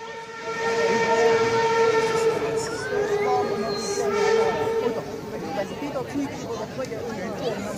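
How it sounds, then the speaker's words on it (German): A steam special train from Schwarzenberg pulls into the station at a station festival in Scharfenstein, sounding a sustained, tonal steam whistle over the hiss and rumble of the locomotive, with a crowd audible around it. "den Dampfsonderzug aus Schwarzenberg. Läuft hinein."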